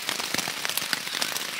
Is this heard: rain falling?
yes